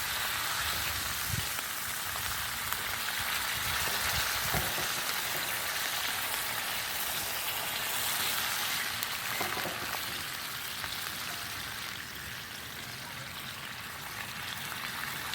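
Smoked sausage and sauerkraut frying in a cast iron pan, giving a steady, dense sizzle with crackling pops that runs unbroken throughout at moderate, close volume with no talking.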